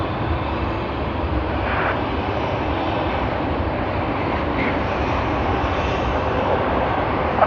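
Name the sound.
airliner arriving on runway 34 at Sydney Airport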